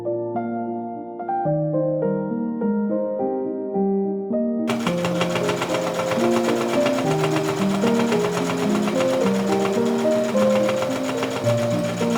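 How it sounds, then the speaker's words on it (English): A sewing machine starts up partway through and runs steadily with a rapid mechanical chatter, while a simple melodic tune plays throughout. "even with my quieter machine, there was still kind of like a thumping sound"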